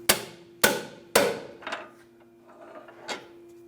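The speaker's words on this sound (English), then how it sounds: "use a hammer on the end of my pry bar and hammer the clamp till it comes off" Sharp metallic hammer blows on a pry bar against a single-use tie rod clamp on a 2012-2020 Ford Focus ring out, three hard strikes in quick succession followed by a few lighter taps, close and clear.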